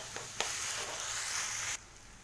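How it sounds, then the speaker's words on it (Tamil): Onions, both shallots and big onions, sizzle in hot oil in a kadai, a steady dense frying hiss that cuts off abruptly near the end. "இப்போ இன்னொரு கடாயில எண்ணெயை விட்டு சின்ன வெங்காயம் பெரிய வெங்காயம் இதையும் நம்ம அரைச்சி பேஸ்ட் பண்ண போறோம் அதனால நல்லா வதக்கி எடுத்துக்கிடலாம்"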